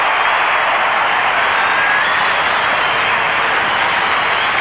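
A large football crowd at North Melbourne versus Geelong roars and applauds in a steady, loud, continuous wash of cheering that fills the whole stretch without letting up.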